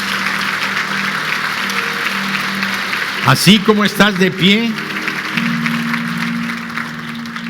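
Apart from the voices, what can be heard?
congregation applauding in church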